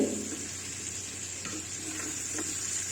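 Bitter gourd with shrimp fries quietly in a pan over a lowered flame, giving a soft continuous sizzle broken by a few brief stirring scrapes.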